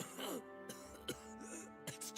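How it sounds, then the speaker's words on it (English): A game character in Pillars of Eternity II coughs and then clears his throat with a gurgling, retching rasp, a few close rough bursts with no other voices. "He nods, coughs, and then clears his throat with a gurgling retch."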